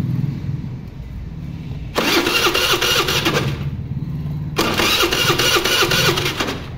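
A Hero Maestro Edge scooter with a suspected CDI fault is cranked twice on its self-starter, two loud whirring bursts of about two seconds each separated by a quieter pause.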